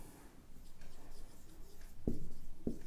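Chalk or marker strokes on a classroom board during a Class 11 physics lecture on oscillations, soft scratchy writing sounds with two sharper taps near the end, no talking.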